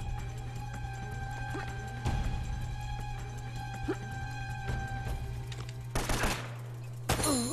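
Gunfire in the video game Uncharted: Drake's Fortune, scattered distant shots and a couple of sharp bursts over a constant low electrical hum, fairly faint, with no talk.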